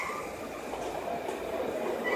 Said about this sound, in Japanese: The rapid train will arrive shortly on track 4.